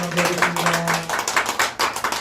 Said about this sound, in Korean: 생일 맞으신 분들이 있어 우리 박수로 축하해 주시면 되겠습니다